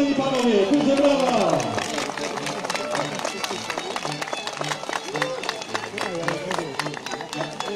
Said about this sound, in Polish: Duże brawa panie i panowie, duże brawa!